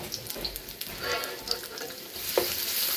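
Garlic cloves and sliced ginger sizzling in about two tablespoons of hot oil, a close, continuous crackling fry with a few brief utensil scrapes.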